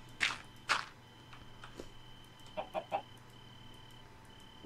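Chickens cluck in an underground chicken farm in a survival video game, two louder squawks early on followed by a quick run of three softer clucks over a steady low hum.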